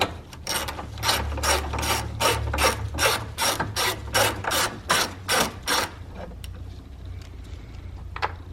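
Ratchet undoing a size 10 bolt on the battery hold-down bracket of a 2014-2019 Toyota Highlander, a rapid run of loud, evenly spaced clicks close up, followed by quieter scattered clicks and tool handling.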